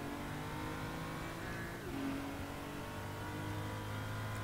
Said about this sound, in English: Oh, the car's starting to stutter.